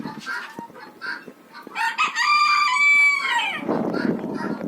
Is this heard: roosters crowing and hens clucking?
yes